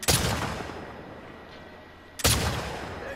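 Two loud gunshots fired at a sign in The Last of Us Part 2, each a sharp close blast followed by a long decaying echo, spaced about two seconds apart with nothing else heard between.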